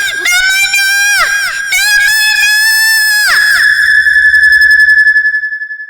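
A child's long, piercing scream, sustained and rising at full loudness, breaking off briefly a few times before holding a final drawn-out shriek.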